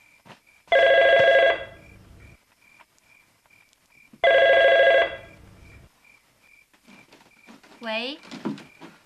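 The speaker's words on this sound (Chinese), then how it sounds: "嫂子电话" A home telephone rings loudly in two long bursts with a quiet pause between them, and a person's voice follows after the second ring.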